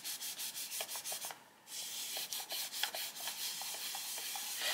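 A coloured pencil rubs back and forth on paper in quick, even strokes with a brief pause, a soft close scratchy rasping heard alone.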